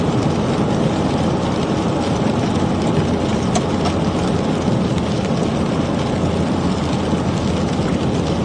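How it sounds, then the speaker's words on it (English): A snow plow passes going westbound on a snow-covered, slushy road during a snow and freezing rain storm, heard as a steady, loud broadband roar of road noise and engine rumble with no talk. "Passing a plow going westbound right now."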